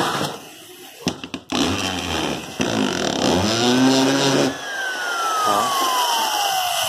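An old, lightly used Japanese 100V electric hand drill rated at 2.8A runs up close with a loud, steady whir whose pitch rises and falls, then winds down with a falling whine.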